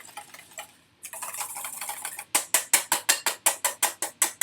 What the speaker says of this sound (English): You can kind of have fun with the whisking method you employ, right?